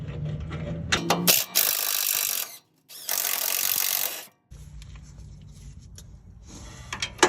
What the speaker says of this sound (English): And then we want to take out the bottom bolt on the sway bar link.